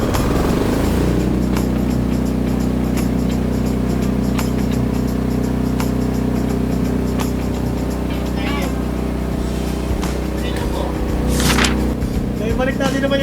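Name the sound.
Philking PK10000STRA diesel generator starting automatically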